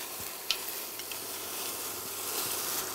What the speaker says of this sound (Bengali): কষানোর জন্য আমি একটু সামান্য নারকেল দুধ দাও দুধটা দিয়ে আমি একটু কষাবো মশলাটা